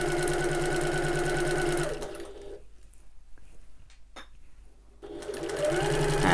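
A sewing machine hums steadily and close while stitching around a curve, then stops for a pause with faint handling noises and a click before starting up again at full speed.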